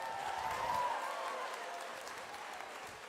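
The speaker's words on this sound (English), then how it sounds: "Give PJ a big round of applause." A comedy-magic show audience gives a round of applause, a soft, steady wash of many hands clapping, heard from a distance and fading slightly over three seconds.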